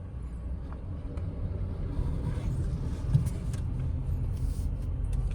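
A Skoda Slavia sedan pulls away in first gear with the handbrake released, a steady low engine and road rumble heard from inside the cabin with slight wind noise.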